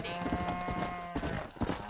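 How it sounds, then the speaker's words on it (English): Cattle and sheep-like bleats and lows from cows being herded in the video game Red Dead Redemption sound over a steady background hum, several calls spread across a couple of seconds. "Herd the cows down the road."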